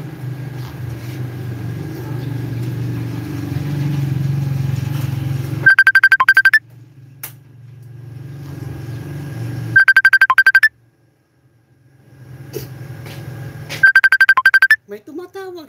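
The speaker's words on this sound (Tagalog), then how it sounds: "May tumatawag sa akin." A phone ringtone for an incoming call sounds in three loud bursts during a live home cooking session, breaking in over a low kitchen hum and a voice talking between rings.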